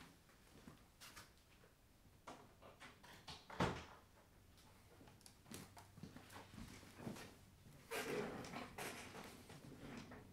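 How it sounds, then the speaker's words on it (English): An indoor door is pushed shut with a sharp thud partway through, amid shuffling and small household knocks in a quiet room. "let me shut this door"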